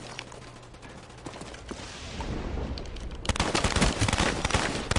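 Rapid gunfire bursts in the Call of Duty Black Ops video game, a dense crackling fusillade that swells in the second half and stays loud through to the end, with no talk over it.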